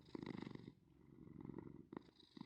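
A contented cat purring after being given salmon, soft and close, with a steady rhythmic rumble in gentle waves and brief pauses between breaths.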